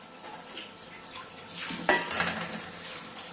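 Boal fish pieces are rinsed in water in a bowl, with close clattering of the fish and hands against the bowl and a splashy swell of water in the middle, no talking.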